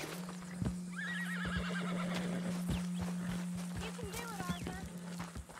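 A horse in the video game Red Dead Redemption II whinnies twice amid clip-clopping hooves and game sounds, with voices talking over it.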